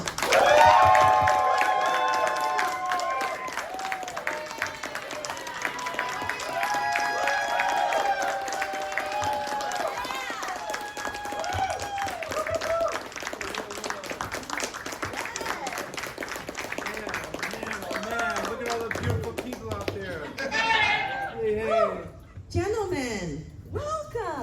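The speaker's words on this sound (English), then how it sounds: "So much noise, so much applause." A convention audience applauds and cheers loudly as guests are welcomed onto a Predator film panel at a horror fan convention, with dense clapping and whoops throughout and voices over the crowd toward the end.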